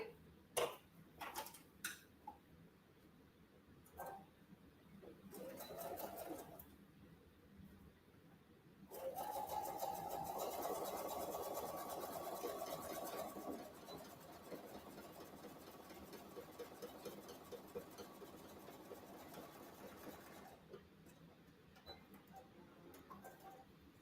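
A sewing machine stitches the second side of a zippered cross body bag, a soft steady mechanical whir running for roughly ten seconds in the middle, framed by quieter handling clicks and taps.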